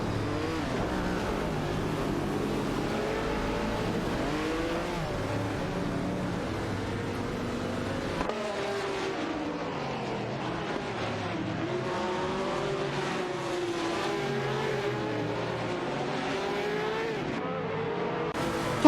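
Race cars roar continuously in a video game race, a McLaren and a Lola T260 among the field, engines revving and shifting pitch as cars pass close by, with occasional tire squeal and no talk.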